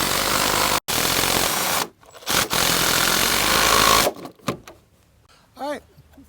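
A powered wrench or socket driver runs a long bolt into a deck tension tie in loud, steady bursts, broken by brief pauses and ending with quieter clicks and short whirs.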